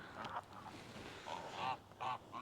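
Farmyard geese give several short honking calls in bursts, moderately close, with other fowl around and no talk.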